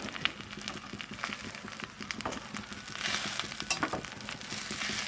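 Gongura leaves frying in a pan while being stirred with a spatula: steady crackling sizzle with scraping strokes, growing louder and hissier toward the end.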